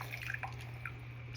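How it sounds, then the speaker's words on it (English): Water drips steadily from foam paint brushes being squeezed out after cleaning, a few faint splashy drips over a constant low hum. "Squeezing out the water."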